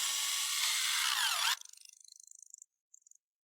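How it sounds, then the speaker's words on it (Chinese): Impact drill boring holes into hard rock at a forest cabin build site, a loud grinding whine for about a second and a half that cuts off, followed by quick fading rattles and a few faint ticks. "他先用冲击鑽在岩石上打孔"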